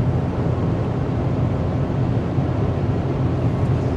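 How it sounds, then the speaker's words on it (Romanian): Steady wind roar at the windshield and pillars inside a moving Dacia Logan 1.5, a continuous broadband rush with road rumble and no talking. "cât se aud zgomote de vânt pe aici, pe la parbriz, pe la stâlpi"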